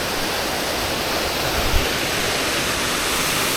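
Cachoeira Mata o Velho waterfall near Canela in the Serra Gaúcha pours with a loud, dense, unbroken roar of rushing water, heard alone and close.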